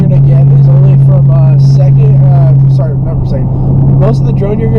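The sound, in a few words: exhaust drone inside Dodge Charger R/T at 2,000-3,000 RPM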